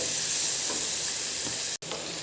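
Ingredients sautéing in a hot pan for a paneer dish give a steady, close frying sizzle with stirring, broken by a short silent gap near the end before the sizzle resumes.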